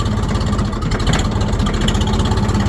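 A tractor engine runs loud and close with a steady low chugging beat, the revs lifting slightly as throttle is added, with no voices over it.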